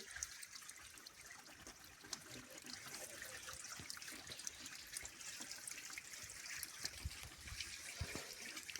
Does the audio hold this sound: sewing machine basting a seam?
no